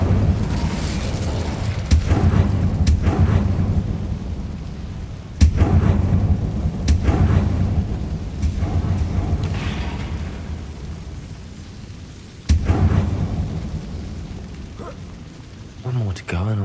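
Fiery Incendio spell blasts in Hogwarts Legacy go off as sharp, booming bursts, about five of them spread irregularly over a rumbling background, with a voice speaking between the blasts.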